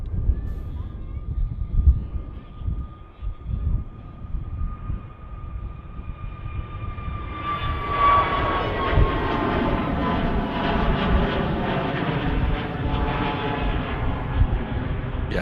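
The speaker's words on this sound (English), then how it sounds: "EasyJet on the roll first then to Sharm el Sheikh." An EasyJet airliner at Manchester Airport begins its take-off roll, the engine roar swelling from a distant whine into a sustained, building rumble with a steady high tone.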